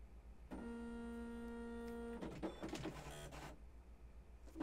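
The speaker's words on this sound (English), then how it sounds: "plug your printer back in, and let's do a print test." An Apple ImageWriter II dot-matrix printer fitted with a LocalTalk card prints a test page, giving a sustained buzzing print run followed by short bursts of head movement and paper feed, close and clear with no talk.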